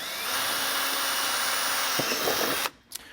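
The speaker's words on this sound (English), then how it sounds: "you need to drill out some holes here with a 5/16 drill" A power drill with a 5/16-inch bit whines continuously at high speed drilling holes on a 2011 Ford truck, then stops abruptly with a brief clatter afterward.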